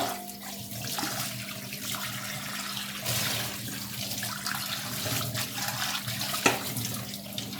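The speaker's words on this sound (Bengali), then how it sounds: "এগুলো হচ্ছে ধুয়ে নিই।" Tap water runs steadily into a kitchen sink while dishes are washed during post-cooking cleanup, a continuous close splashing rush with no talking.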